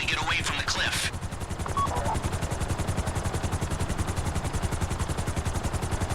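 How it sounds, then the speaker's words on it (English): A helicopter in GTA Online comes down to land, its rotor thudding in a fast, steady, loud chop; a brief voice is heard at the start before the rotor continues alone. "go land the helicopter into the dinghy"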